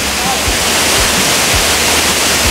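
A big Philippine waterfall roars as a loud, steady broadband rush of falling water with no pauses, filling the whole stretch close to the listener.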